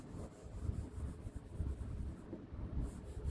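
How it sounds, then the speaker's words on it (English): A paper towel rubs pencil lead across a sketch on paper, producing a soft, close, continuous scratchy swishing in uneven strokes, quiet and alone without talk. "All you're doing is just pushing the pencil lead around."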